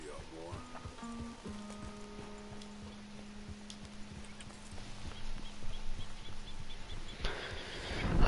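Horse hooves clip-clopping at a trot in Red Dead Redemption 2, a steady rhythm of close hoof beats running throughout, with tonal game sounds and a brief rising swell near the end.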